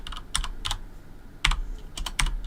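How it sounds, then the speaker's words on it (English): Someone types one-handed on a computer keyboard in short, uneven bursts of a few close key clicks separated by pauses, with no talking over it. "One-handed typing is not fun."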